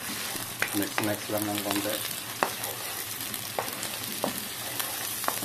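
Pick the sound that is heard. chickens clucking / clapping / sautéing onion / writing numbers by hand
sautéing onion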